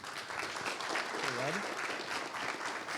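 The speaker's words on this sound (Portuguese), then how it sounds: "uma salva de palmas para o Maia." Audience applause after a technical tutorial talk at an infrastructure event, a steady, fairly quiet wash of clapping with a voice speaking briefly over it.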